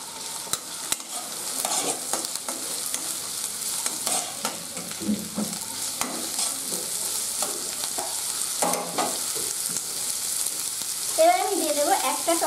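Chopped garlic and five or six chopped green and ripe chillies frying in oil in a pan, with a steady sizzle broken by repeated spatula stirs and scrapes close by, no voices.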